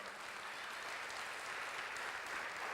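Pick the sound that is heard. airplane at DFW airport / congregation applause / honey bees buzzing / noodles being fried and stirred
congregation applause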